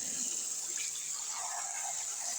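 Tap water runs steadily into a sink over a soapy silicone pop-it fidget toy, a continuous close hiss and splash with no voices.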